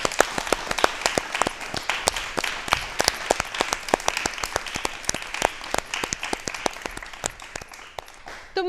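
Loud, sustained audience applause at a Rajasthan talk show, dense steady clapping from many hands lasting throughout with no talk over it.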